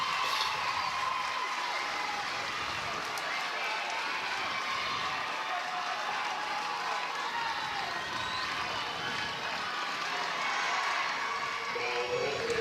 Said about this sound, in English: this is a huge crowd